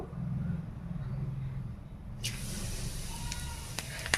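Hot oil for a Bengali mustard fish curry bursts into a sudden loud hissing sizzle partway through, after a quieter low rumble, with faint sharp crackles later.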